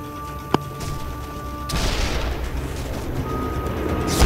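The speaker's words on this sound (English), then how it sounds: "we're going to try it with the Panzer Shrek" A Panzerschreck rocket launcher fires in Sniper Elite 3, a sharp crack followed by a deep rolling explosion that swells and lingers loudly to the end.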